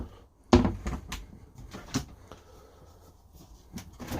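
A cupboard door in a 2022 Swift Challenger X 850 caravan kitchen being opened and shut, a sharp close knock followed by lighter wooden clicks and rattles, with quiet room tone between.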